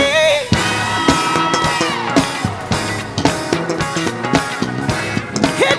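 Women in a COGIC convention church crowd let out shouts and whoops on cue, loud and sustained, over driving gospel music with thumping bass and keyboard chords.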